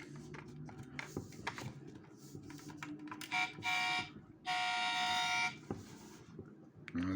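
Clicking and clattering of a small plastic toy car, then two sustained electronic beeps, close and fairly loud, with no talking.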